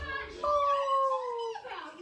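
A young child imitates a wolf, voicing a short, rising-then-falling howl that lasts under two seconds, close and clear.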